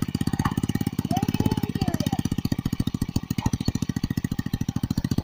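A 100cc mini chopper engine runs close by with a fast, steady, pulsing beat, holding an even loud idle throughout.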